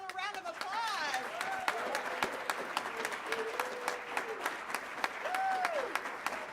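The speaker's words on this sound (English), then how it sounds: "Another round of applause." Applause from an audience at a public works and safety board meeting after a choir performance, dense steady clapping with a cheer and voices mixed in throughout.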